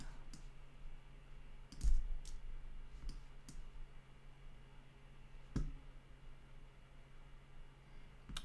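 A handful of sharp, isolated mouse clicks while playing a geography guessing game, sounding close and quiet over a low background hum, with one louder click near the start and another midway.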